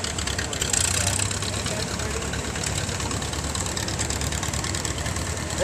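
A 1953 Super H tractor engine runs steadily at a near idle, giving a continuous, fairly loud mechanical drone with a rough, even texture for the whole stretch and no talk over it.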